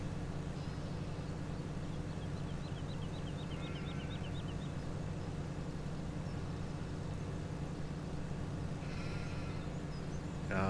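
A sheep bleats in short repeated calls over a steady engine drone in a farming video game, the animal sounding small and somewhat distant behind the constant machine hum.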